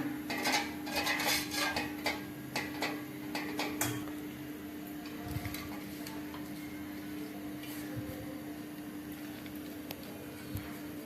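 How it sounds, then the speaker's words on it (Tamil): A spoon clinks and scrapes against a metal pot while mango leaves are mixed with salt and turmeric, with busy clatter early that thins to faint scattered taps over a steady low hum. "நல்லா கலந்து விட்டுக்கலாம்"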